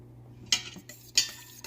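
A utensil stirs creamy pepper and tomato sauce in a pan, making two short scraping clinks close by over a faint hum.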